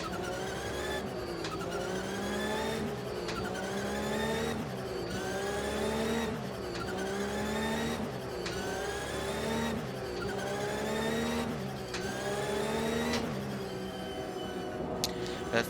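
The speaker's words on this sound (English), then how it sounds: "try and control this Porsche 911 GT3 Cup car" Porsche 911 GT3 Cup race car in the Automobilista racing game, its engine revving up through the gears in a repeating pattern of rising wails, each climb cut off by a shift, sustained and close with no talk.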